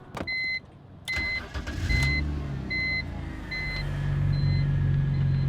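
A BMW E46 engine cranks and catches, then settles into a steady low idle rumble, with a repeating electronic chime beeping in the background.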